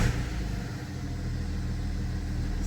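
A BMW E39 sedan with a V8 and over 220,000 km on it runs close by with a steady, deep low rumble that holds evenly for the whole stretch.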